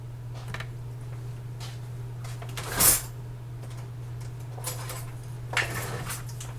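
Someone rummages through cutlery for a tasting spoon while French onion soup cooks, producing a few scattered metallic clinks and one louder rattle over a steady low hum, close by and without speech.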